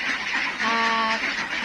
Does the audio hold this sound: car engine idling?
no